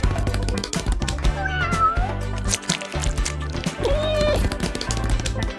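Cartoon cats meow over busy background music in a cardboard-craft cat house scene, several high, bending mews rising above the steady musical bed.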